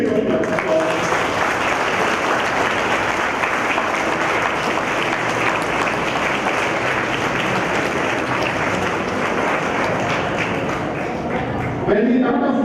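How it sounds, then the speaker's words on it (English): A valediction audience at a national moot court competition breaks into sustained, loud applause filling the room, tapering near the end as a voice begins. "I feel we can give a very big applause for"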